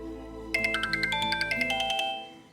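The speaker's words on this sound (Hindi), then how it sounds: "ओह, शाम का फोन है।" A mobile phone rings for an incoming call from Shyam, a quick run of bright electronic chime notes in a repeating melody, clear and close, ending abruptly after about a second and a half.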